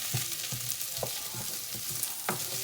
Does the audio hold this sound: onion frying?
yes